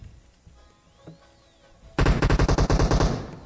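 Rapid automatic gunfire in PUBG Mobile, a loud close burst of about a dozen evenly spaced shots starting suddenly after quiet game ambience with a few faint clicks.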